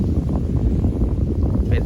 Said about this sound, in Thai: ลมพัดเย็นๆครับผมเนาะเนี่ย ลมพัดเย็นๆ